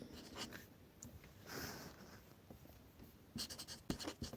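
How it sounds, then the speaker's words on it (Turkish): Pen writing a name on paper at close range, soft scratchy strokes in irregular bursts, quiet throughout with a denser flurry of strokes near the end and no talking. "İsmail Mihriban demiş birisi. Hemen yazayım."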